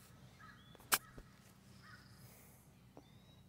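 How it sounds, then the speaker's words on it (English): Birds on a golf course give a few odd, cartoonish caws at a distance, one sharp loud call standing out over faint outdoor ambience, with a softer call later. "Hear these cartoonish sounding birds, dude?"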